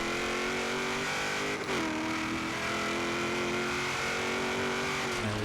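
A drag car built for quarter-mile racing launches and pulls hard through a long first gear, its engine a loud, sustained rising roar heard from inside, with a brief dip partway through.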